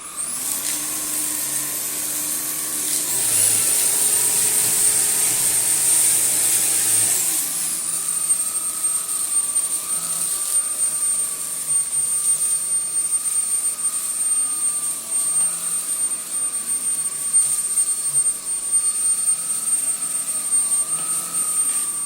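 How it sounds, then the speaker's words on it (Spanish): A Xiaomi Jimmy H9 Pro handheld anti-mite vacuum runs with a steady high-pitched whine, its motor pitch shifting briefly early on before settling into a constant drone. "vamos a probar el cepillo eléctrico antiácaros."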